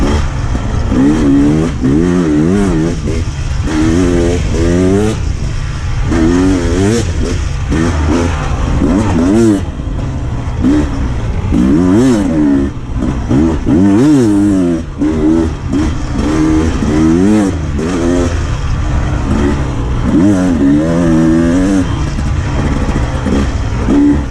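A 2023 Beta 300 Race Edition two-stroke dirt bike revs hard and close on an off-road ride, its engine surging up and down in rapid repeated bursts throughout.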